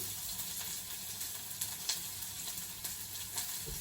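Chopped onion frying alongside a hilsa fish head in hot oil, a steady close sizzle with occasional sharper spits and pops throughout, no voices.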